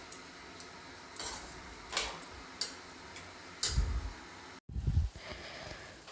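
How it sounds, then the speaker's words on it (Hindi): A spatula stirs and fries onion-tomato masala in a pan for a potato-cabbage dish, making a soft background sizzle with scattered metallic taps and scrapes and a few heavier clunks near the end. "अब मैं इस मसाले को तेल छूटने तक भून लूँगी।"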